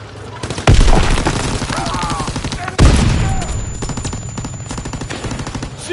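Video game gunfire on a PS4 with rapid, loud machine-gun bursts and two heavy booming blasts, a dense continuous volley up close with faint voices under it.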